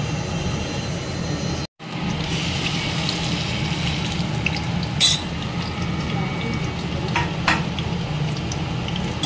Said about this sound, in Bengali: এটাকে এখন ডিপ করে করে এটাই ভাজা হবে